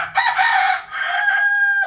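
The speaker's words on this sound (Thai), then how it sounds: "โอ้โหไก่มาขันใกล้ๆพอดีนะคะ" A rooster crows close by and loudly, one drawn-out call with a rising then sustained tone, alone in an otherwise quiet outdoor setting.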